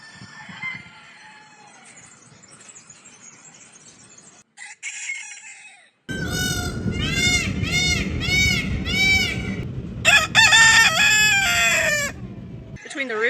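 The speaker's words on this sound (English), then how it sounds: "Between the roosters and the peacocks. It's pretty noisy in this garden." Roosters crow and peacocks call loudly in a garden in Porto, Portugal, with bursts of strident, repeated calls after a quieter stretch of faint bird sounds and background murmur.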